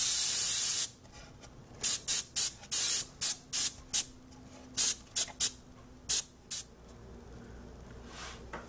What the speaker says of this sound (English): I'm going to use my airbrush and spray the entire model with a coat of Future Floor Wax.